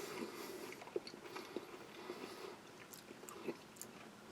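Close, soft crunching and chewing of a firm, chewy energy bar studded with crispies and cranberries and sweetened with syrup, steady mouth sounds with small crisp bites scattered through.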